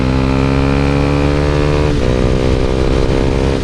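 A modern cafe racer style motorcycle engine runs steadily and close up, a loud continuous harmonic drone whose pitch drops slightly midway, with no talking.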